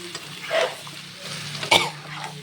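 Food gets stirred in a pan during home cooking of a Bengali mukhi dish, with soft scraping and light sizzling, and a sharp utensil clatter near the end, close and fairly quiet.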